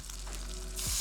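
Garlic and ginger root slices frying in a pan, a brief continuous crackling sizzle that swells slightly louder toward the end.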